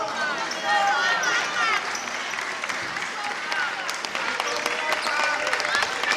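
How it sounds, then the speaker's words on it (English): A home crowd gives a standing ovation at a CBC Women's Championship basketball game between Guyana and Surinam, sustained applause and cheering from the stands with sneaker squeaks and ball bounces beneath, while a commentator talks over it. "Marika leaves the game to a standing ovation from the home crowd."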